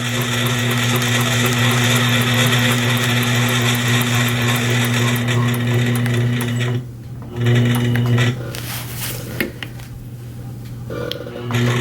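A sewing machine stitches free-motion quilting guided by a straight ruler, running as a loud steady motorized hum with a rapid needle rhythm. It pauses briefly twice near the end, with no speech.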